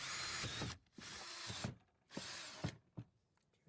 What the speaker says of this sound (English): Drill 4 1/4 inch holes into the solar suitcase.